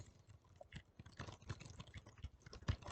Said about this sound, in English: This is what it sounds like when I type on the keyboard.